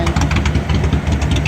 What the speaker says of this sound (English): I like that dual exhaust.